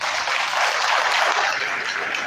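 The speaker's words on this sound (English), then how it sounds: "Another round of applause." An audience at a football club's annual delegates assembly in Accra claps steadily, a dense, even wash of applause throughout with no voices.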